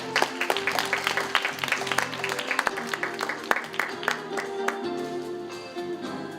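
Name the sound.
audience applause at webtoon forum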